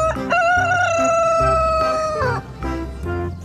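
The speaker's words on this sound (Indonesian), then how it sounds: "Wow, ini ayam jantan." A rooster crows once, loud and close, its long harmonic call holding steady before dropping off at the end, with low background noise and no talk.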